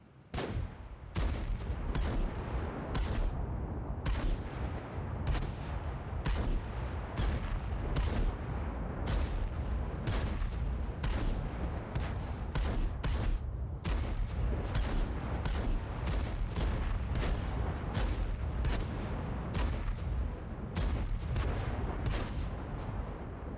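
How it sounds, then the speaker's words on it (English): Tank guns fire again and again in the video game World of Tanks, loud booming shots of differing calibers in a fast, irregular barrage that fills the whole stretch without pause. "while the guns here are certainly of different caliber, I can't help but get the feeling that they all sound fairly similar"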